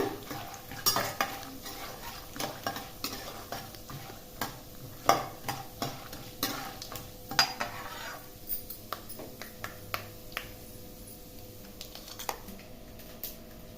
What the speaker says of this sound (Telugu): నూనె బాగా వేడెక్కినాయి అందులో తాలింపు గింజలు పల్లీలు వేసుకున్నాము